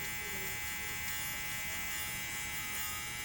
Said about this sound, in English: What I love about these sabers is that you can actually hear the hair being cut.